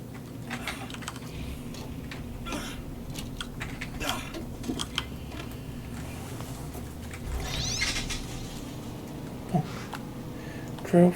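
Cat meowing in the video game Borderlands, brief cries surfacing under steady game noise, clicking and occasional talk, with a louder burst near the end.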